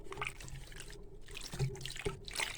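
Potassium metabisulfite is stirred into liquid for red wine, giving close watery swishing and sloshing with small drips and clinks in an uneven rhythm, no voices.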